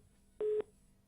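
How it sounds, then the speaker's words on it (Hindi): A single short telephone tone marks a call line failing to connect during a phone-in broadcast, with one steady, mid-pitched burst lasting about a fifth of a second alone against a quiet background. "चलिए, संपर्क राजीव से नहीं बन पा रहा है।"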